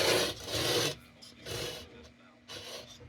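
Rubbing carbon into the aged metal patina of a Dietz 8-day lantern with a round fount, giving three gritty, rasping strokes separated by short pauses, close up and without speech.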